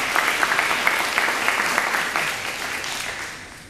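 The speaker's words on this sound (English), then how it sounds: "And let's give our partners a nice round of applause." An audience at a Ward 5 community meeting claps for partner organizations, a steady burst of applause that fills the room and gradually thins out toward the end.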